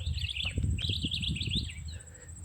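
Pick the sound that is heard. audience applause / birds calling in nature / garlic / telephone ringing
birds calling in nature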